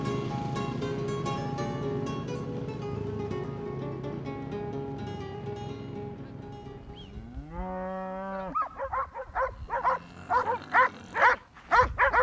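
Cattle on a working ranch in Argentina low in long, drawn-out moos, one loud bellow rising and falling near the middle, followed by a run of quick, sharp dog barks toward the end.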